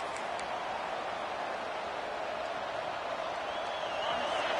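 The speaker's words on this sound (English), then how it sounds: "Listen to this crowd just shaking the girders of this place, trying to help their defense." Stadium crowd at a football game roaring to help the defense: dense, sustained wash of cheering and noise, steady and fairly distant, with no clear individual voices.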